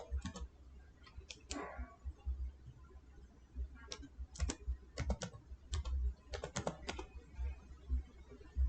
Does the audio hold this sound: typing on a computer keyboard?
yes